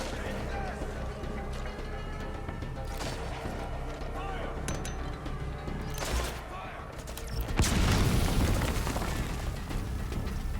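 Support fire explosions in the video game Metal Gear Solid V: The Phantom Pain, a dense rumbling barrage under talk and game sound that builds into a loud blast near the end.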